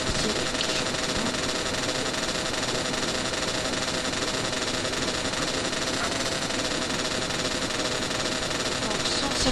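In GTA San Andreas, a game motorcycle engine hums in a steady, faint drone throughout, while someone talks over it.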